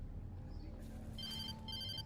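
Telephone ringing in the video game Alan Wake Remastered, two short electronic ring bursts over a low ambient hum, fairly quiet and alone without talk.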